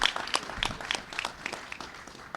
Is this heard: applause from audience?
yes